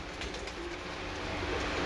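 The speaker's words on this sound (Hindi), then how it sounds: "ये हैं उस्ताद जनाब हाजी अब्दुल रशीद साहब के मेन ब्रीडर टैडी कबूतर" Teddy breeder pigeons coo in a loft, low murmuring calls blended into a steady wash of background noise.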